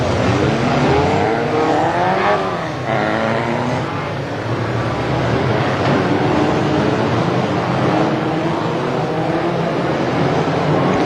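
BriSCA Formula 2 stock cars race in a consolation heat at Crewe in 1993, a loud dense roar of many engines revving and passing continuously with shifting pitch.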